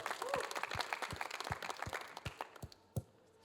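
A live audience at an Atlantic City show applauds two guests, heard faintly, with a few heavier claps landing in a rough, regular beat.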